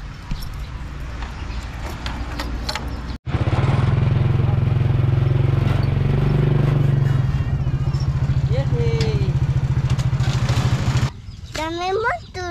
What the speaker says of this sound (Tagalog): Dami motor. Ang dami.